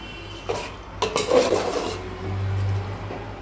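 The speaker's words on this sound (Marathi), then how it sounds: "एक वाटी दही टाकून चांगलं त्याला हलवून घेऊ" Yogurt being stirred into dum biryani ingredients in a pot, with soft scraping and clinking of a spoon against metal over a low hum, a few sharper knocks mid-way.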